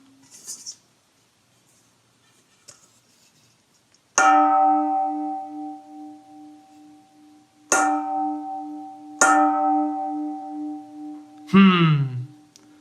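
A large bowl, part of a homemade drum set, is struck four times like a temple or church bell, each hit ringing out in a long sustained metallic tone after a brief faint tap at the start.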